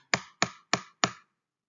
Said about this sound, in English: Lenovo ThinkPad, I am getting a very plasticky sound.